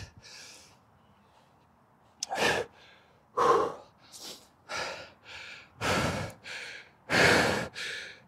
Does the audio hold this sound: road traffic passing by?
no